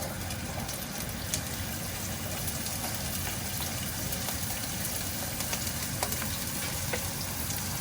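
Onion and garlic sauté in a pan for a cream of mushroom dish, giving a steady close sizzle with scattered crackles and faint stirring scrapes that run the whole time.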